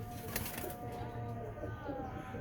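Pigeon cooing from a large Aalkoti pigeon kept in a loft with other birds, a low soft murmur running steadily through the clip with faint rustling.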